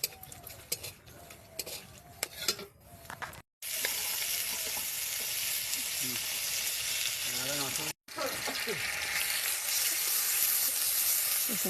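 Bay leaves and whole garam masala fry in hot oil in a pan for a duck curry, with a bright continuous sizzle after some clattering utensil sounds and faint talk.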